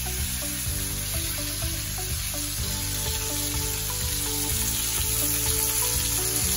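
Thin boneless chicken sears in a hot pan before roasting in the oven, giving a steady, close sizzle and crackle throughout with no talking.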